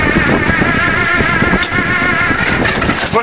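The gas starting engine of a huge 1953 bulldozer runs loud and close, a steady rough clattering roar with rapid irregular knocks and no pauses.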